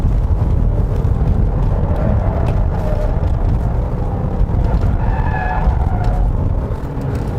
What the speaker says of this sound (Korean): 좀 회전수를 높여서 운전을 하면은 엔진 소리가 사기통 같진 않아요